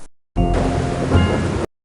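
Steady heavy rain falling over a ruined Civil War era village in the ClueFinders 5th Grade Adventures video game, a dense continuous wash that starts and stops abruptly, alone without voices.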